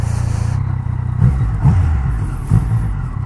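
A Yamaha MT-09 three-cylinder motorcycle being ridden, its engine a steady low rumble with a couple of brief surges in throttle, heard close and without talk.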